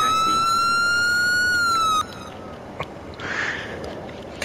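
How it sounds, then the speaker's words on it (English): Police vehicle siren in Farming Simulator 22 wails loud and steady as a harmonic tone for about two seconds, then cuts off, leaving faint game ambience and a brief rising rush. "That's the real siren to give you guys a heads up."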